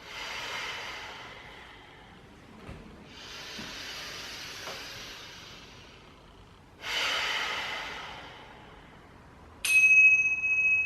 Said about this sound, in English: Couple more breaths.